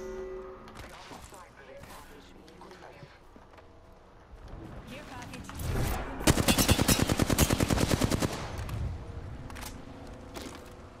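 Rapid automatic gunfire in the battle royale game Apex Legends, a loud sustained burst of closely spaced shots with scattered single shots around it, heard under tense voices.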